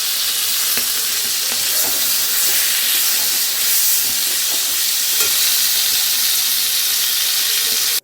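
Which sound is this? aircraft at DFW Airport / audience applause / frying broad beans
frying broad beans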